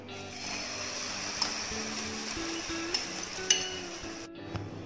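Beaten egg poured into hot sunflower oil for a Kerala thattukada-style green peas egg stir fry, a quiet steady sizzle with a few sharp clinks of a utensil against the pan.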